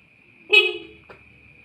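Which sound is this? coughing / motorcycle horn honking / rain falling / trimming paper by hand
motorcycle horn honking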